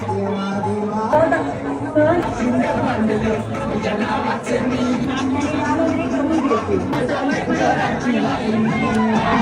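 Crowd chatter at an outdoor village food show, a dense babble of many voices close around, steady and lively throughout.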